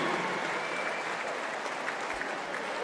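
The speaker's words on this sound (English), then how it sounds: "Let's have a round of applause for both teams." A crowd applauds both teams after a basketball championship game, a dense, steady clatter of clapping filling the gymnasium for a few seconds without speech.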